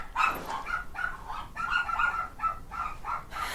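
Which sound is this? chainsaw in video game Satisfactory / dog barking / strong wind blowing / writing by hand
dog barking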